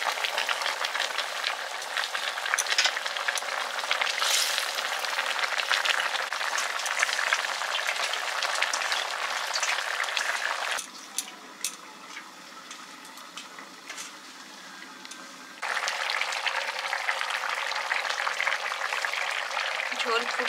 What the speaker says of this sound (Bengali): ঝোল ফুটে গেছে, এবার মাছগুলো দিয়ে দিচ্ছি।